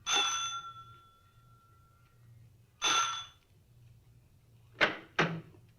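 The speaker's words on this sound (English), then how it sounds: "I rang the front doorbell." A front doorbell at a boarding house rings, a bright electric bell in a radio drama: a long ring, a second shorter ring, then two sharp knocks close together, all loud and near over faint background hum.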